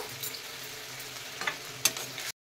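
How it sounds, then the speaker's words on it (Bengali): Spices with turmeric, Kashmiri chili powder and ginger-garlic paste sizzle in a pan while being mixed, a steady soft frying hiss broken by a few sharp scrapes of the spoon, close by and without talk. "দিয়ে মশলাটা ভালো করে মিশিয়ে নেবো"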